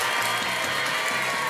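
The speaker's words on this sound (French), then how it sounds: "On applaudit Ricardo, s'il vous plaît, il est là." Studio audience at a French television variety show applauds a guest, a dense steady wash of clapping heard close and loud throughout, with no talk over it.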